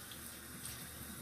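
Tap water runs steadily into a cupped hand while adding water to a cleansing cream for removing makeup, a soft continuous splashing stream, fairly quiet and close, with no talking.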